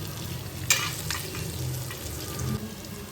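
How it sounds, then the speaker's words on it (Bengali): Cabbage and vegetable pakoras frying in hot oil, a low steady sizzle with a few soft clinks and scrapes of a utensil, close by. "এইভাবে অপর পিঠটা আমি ভেজে নেব"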